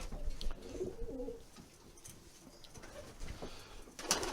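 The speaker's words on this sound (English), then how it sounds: "Again, another nice pigeon." Soft, low racing pigeon coos repeat close by amid light rustling and background noise, with a brief louder burst near the end.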